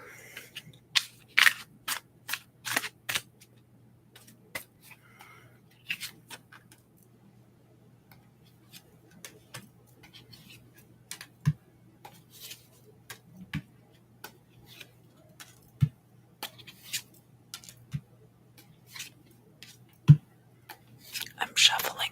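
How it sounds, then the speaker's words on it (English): Tarot cards being shuffled over and over, giving close, crisp snapping and riffling bursts in irregular clusters at a soft, intimate level, with quiet breathy voice sounds now and then. "I'm shuffling the cards a lot."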